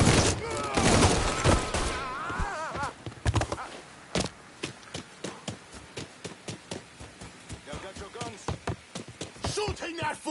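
Rapid gunfire bursts crackle through a chaotic firefight in the video game Mafia 3, with sharp repeated shots and explosive pops layered under shouting voices and music, loud and close throughout.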